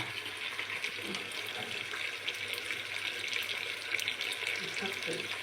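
Water runs steadily from a tap into a cooking pot, a continuous close splashing rush with no pauses.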